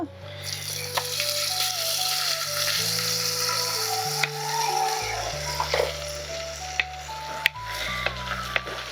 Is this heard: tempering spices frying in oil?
yes